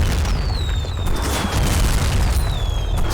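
Mortar fire in the video game Medal of Honor Rising Sun: a dense, loud rumbling barrage of low booms laced with thin whistling tones, continuous and close.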